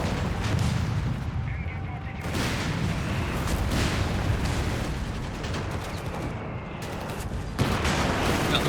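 In the Company of Heroes 3 battle, mortar and artillery rumble with dense gunfire in a continuous barrage, loud booms rolling over one another.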